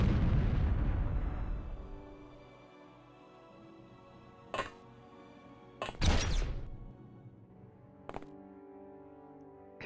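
Bolter fire in the OpenXcom Warhammer 40k mod: several separate sharp reports spaced seconds apart, one a quick double crack, each ringing out briefly after a fading low drone.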